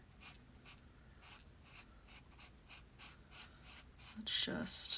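Markers scratch across paper during a relaxed coloring session: soft, close, evenly spaced strokes in a steady rhythm, growing louder and busier near the end.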